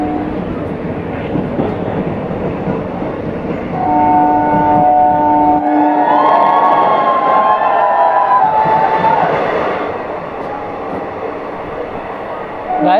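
A DEMU train on its inaugural Dausa–Gangapur City run via Lalsot, passing through a 2.7 km tunnel in Rajasthan: a loud, continuous close rumble with shrill metallic squealing tones that rise and fade midway.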